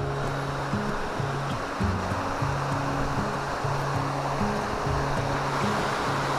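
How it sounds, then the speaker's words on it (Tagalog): Siminublan Falls in Santol, La Union, water pouring down onto rocks, a steady broadband rush that stays loud and constant throughout, with a low tonal drone underneath and no speech. "So ito pala ang Siminublan Falls."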